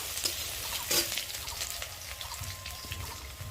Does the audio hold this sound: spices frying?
yes